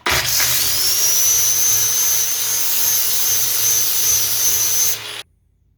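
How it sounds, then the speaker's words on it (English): A grinder works continuously against a Kubota mower blade to balance it, a loud close whine with a steady high tone, running alone before cutting off abruptly near the end. "so we need to grind off a little more on this one"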